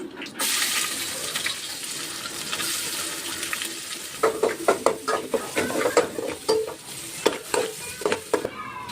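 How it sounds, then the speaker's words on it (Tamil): Onions and curry leaves hit hot oil in a pan, giving a steady broadband sizzle that turns into sharper, crackling bursts and spatters as they go in, close and loud with no talk. "அடுத்து நம்ம கருவேப்பிலை போட்டுக்கலாம். நம்ம வெங்காயம் போட்டுக்கலாம்."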